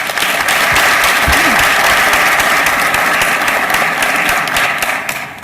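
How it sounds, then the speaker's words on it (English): Steady, dense applause from a forum audience greets the moderator, loud and sustained for several seconds before starting to taper, with a brief voice low underneath. "A round of applause for our moderator."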